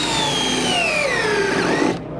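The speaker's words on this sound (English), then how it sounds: "a setting tool that's going to put this screw below the surface about 1/4 of an inch every single time" A Cortex setting tool on a power driver drives a screw into a decking board, making a steady high whirring grind with falling pitch as the screw sinks in, then an abrupt stop near the end.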